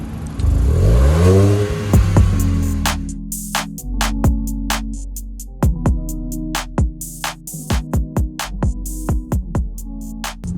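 A Honda City Hatchback engine starts up, then revs in a series of sharp, loud throttle blips that rise and fall, ending in rapid short revs close to the car.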